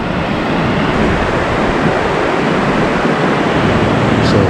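Water rushes steadily through an overflow beside Lock 16 on the old Third Welland Canal, a loud, continuous close-up roar with no voices.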